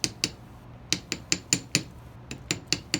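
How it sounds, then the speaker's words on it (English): A hammer strikes thin-gauge jewelry wire to work-harden the metal for earrings, giving a quick series of about a dozen bright, metallic taps at an uneven pace, close and clear with no talk. "And now what I'm going to do is take my hammer"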